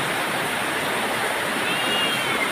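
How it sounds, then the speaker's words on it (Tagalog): Dense, steady hiss of heavy rain pouring down during Typhoon Enteng in September 2024, a constant wash of noise with no pauses or voices. "Malakas na naman ang ulan."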